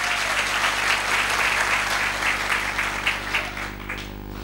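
An audience applauds steadily and warmly for a few seconds, with dense clapping that fades slightly toward the end.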